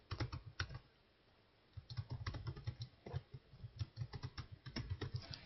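Typing on a computer keyboard while entering a slide title in PowerPoint, quick clusters of soft, close key clicks with a brief pause near the start, faint and alone without talk.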